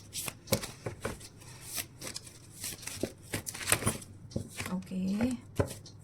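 Tarot cards being shuffled: crisp, close riffling and slapping bursts in an irregular rhythm, with a short vocal sound near the end.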